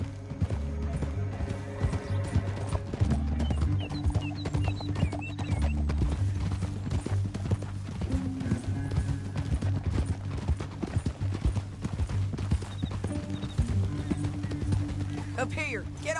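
Hooves clip-clop steadily at a trot in the video game Red Dead Redemption 2, with a horse snorting, while people talk over the top of them.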